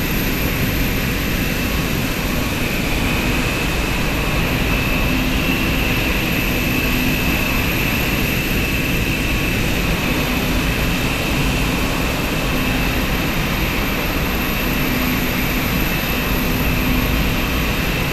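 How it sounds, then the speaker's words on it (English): A loud, steady airliner engine roar in Microsoft Flight Simulator after landing at Charlotte airport drones on without a break, a constant heavy hum with a high whine riding over it. "That plane is loud."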